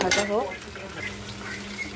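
Lentils frying and being stirred in a pan, heard as close metallic scrapes and clinks of a spoon against the pan over a low sizzle, with a short burst of speech at the start.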